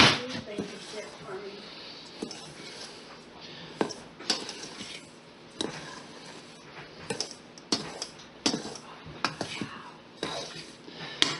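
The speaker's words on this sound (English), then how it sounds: "I'm just going to mix these together and then put them back in the jars." A spoon stirs sifted bran from red and white whole wheat flour in a jar, giving soft scraping and clinking strokes in uneven bursts, fairly close and quiet, with faint murmuring in the background.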